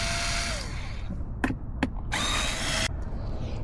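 A power drill backs screws out of the bottom plate of a Onewheel Enduro electric skateboard, with two loud whirring bursts separated by brief clicks and ratcheting ticks, close up with no talk.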